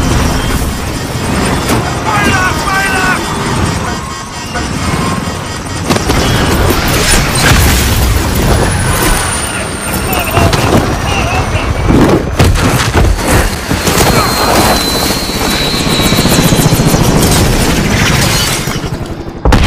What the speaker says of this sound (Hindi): बट उसके हेलीकॉप्टर जो वुल्फ के लोग RPG से उड़ा देते हैं।